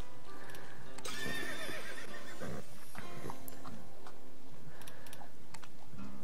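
Horses in the breeding game Horse Haven World Adventures whinny and neigh in short bursts over light clip-clopping hooves and small clicking interface ticks, fairly close and clear.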